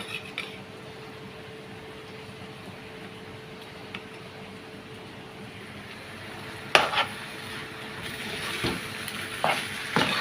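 Cooked rice is mixed by hand with mutton in a quiet, soft, squishy rustle that grows busier toward the end, with a few sharper clicks and taps close by and no talk.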